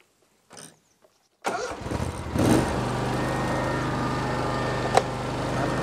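A roadside mowing machine's engine cranks after a couple of faint clicks, catches with a rough sputter, then settles into a steady loud idle close by.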